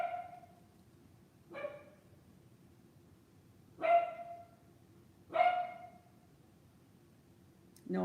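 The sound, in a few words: dogs barking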